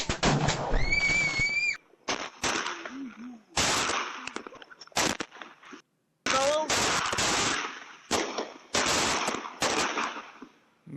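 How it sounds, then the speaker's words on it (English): Consumer fireworks going off in a Fourth of July fail, a rapid series of loud sharp explosive bangs and crackling bursts with short whistling shrieks, broken by a couple of brief gaps. "these fireworks are crazy"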